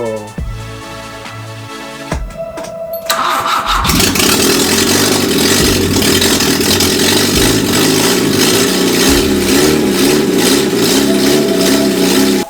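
A 104 car engine, started for the first time, cranks and catches, then runs loudly with a steady roar and occasional revs, close by and without talk.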